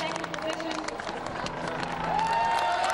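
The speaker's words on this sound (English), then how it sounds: "Applause as the bronze medal goes to Ireland" Crowd applause at the A1GP podium ceremony at Brno, as the bronze medal goes to Ireland: steady mid-distance clapping and cheering under continuous babble, with a rising tonal sound near the end.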